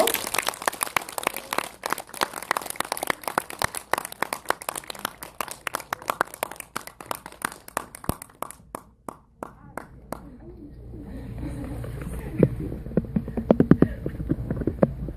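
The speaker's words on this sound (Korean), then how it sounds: "큰 박수로 맞아주십시오." An audience at a cinema talk in CGV Apgujeong, Seoul, claps to welcome a film director and an actress. Sparse, crisp individual claps come close and irregular, thin out, then give way to a quieter murmur of a room with faint knocks.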